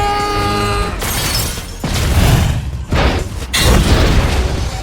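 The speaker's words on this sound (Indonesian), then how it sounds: "ledakan dahsyat dari kapal" A series of massive, rumbling ship explosions in a film, each a heavy boom followed by roaring debris, loud and cinematic, coming in about three waves after a tonal lead-in.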